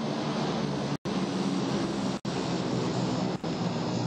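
A propeller airplane drones overhead in PUBG, a steady, loud broadband roar with no speech, broken by a few brief cutouts.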